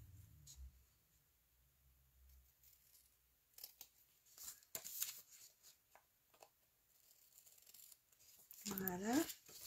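Scissors snip paper for a folded card in scattered short cuts and rustles, close and fairly faint, ending with a louder burst of paper handling.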